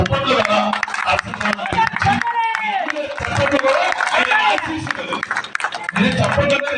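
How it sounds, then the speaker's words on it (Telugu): Audience clapping at Malla Surendra's birthday celebration, a Telugu Desam Party gathering: dense, loud applause from a crowd that runs nearly throughout, with a voice talking over it through the middle. "డైనామిక్ లీడర్ మన సురేంద్ర గారికి జన్మదిన సందర్భంగా అందరూ చప్పట్లు కదా"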